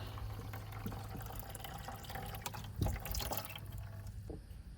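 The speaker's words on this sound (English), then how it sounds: "While we're waiting for the coolant to drain" Coolant drains from a Generac 25kW liquid-cooled standby generator, trickling and dripping steadily into a container, close and fairly quiet with a few louder splashes.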